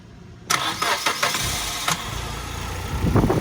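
A 1998 Nissan Almera with low mileage, left sitting for five years, cranks briefly and fires on the first turn, a short starter whir followed by the engine catching and settling into a rough, steady idle nearby.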